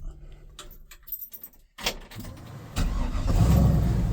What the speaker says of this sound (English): Fires right up every time, but that's what you get with the LS.